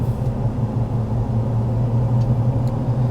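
A steady, low engine rumble of a 2021 Ford F-350 pickup with a 6.7L Powerstroke diesel on mud-terrain tires driving, constant and close, with road noise and no voices.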